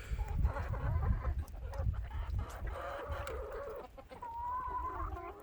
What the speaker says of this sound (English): Watch out, my little birdies. I don't want to step on anybody.